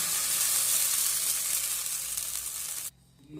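Rice batter poured into a hot buttered, oil-brushed kadai sizzles in a loud, steady hiss close by, fading slightly before cutting off abruptly near the end, with no speech.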